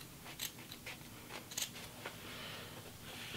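Scissors snipping a slit into denim jeans, a series of quiet, close crisp cuts spaced irregularly against a soft background hiss, with no talking.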